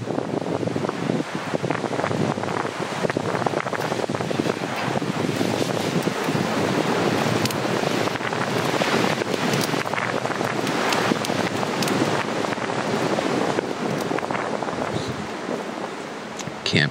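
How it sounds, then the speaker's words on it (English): Strong gusting wind roars across a backcountry campsite in Ontario on a cold autumn night, a loud, continuous broadband rush with swelling gusts and buffeting against the microphone for the full length, no one talking. "as we set up camp, the wind kicked into overdrive"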